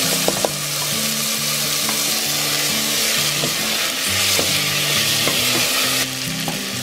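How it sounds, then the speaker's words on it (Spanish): Tomato sizzles in a hot pan over medium heat, with a steady frying crackle and occasional stirring scrapes, loud and close with no talking. "Ahora le voy a agregar el jitomate para que se fría y agarre colorcito."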